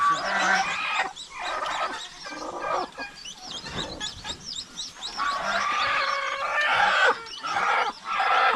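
Several chickens cluck and squawk close by, in busy overlapping bursts with brief pauses, continuing throughout, as they are put into a pen.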